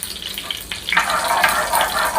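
Cumin seeds frying in ghee in a pan, a soft crackle that bursts into a louder, brighter sizzle about a second in and keeps spitting close by.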